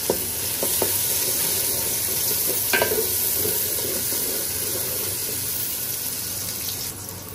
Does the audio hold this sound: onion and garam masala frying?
yes